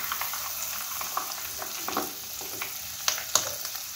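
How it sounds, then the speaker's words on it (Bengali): Cheese-stuffed chicken drumsticks frying in hot oil in a home kitchen, a steady close sizzle with scattered crackles and a few sharper pops, no talking. "আমি এটাকে ফ্রাই করে নিচ্ছি"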